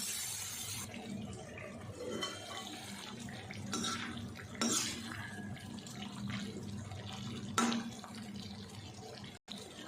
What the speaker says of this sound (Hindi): हम इसमें थोड़ा सा पानी डालेंगे